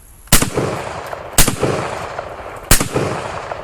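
An SKS rifle chambered for a 6.21x39mm cartridge fires three loud, close shots at uneven intervals, each sharp crack followed by a decaying outdoor echo.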